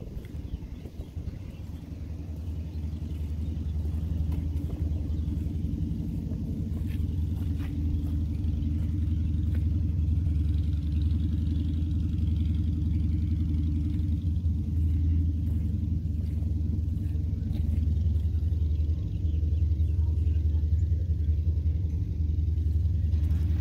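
A 2018 Toyota Camry drives along, a low steady engine and road rumble filling the cabin at moderate level with no talk over it.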